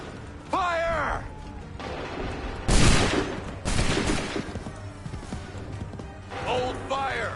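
A volley of gunfire from a group of shooters bursts out in loud, heavy blasts, with shouted voices ringing around the shots.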